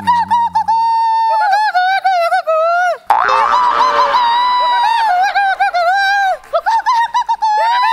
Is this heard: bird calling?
yes